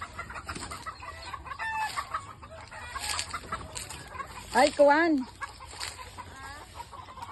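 Chickens cluck and chatter nearby, with a louder squawking call in the middle and a short human exclamation.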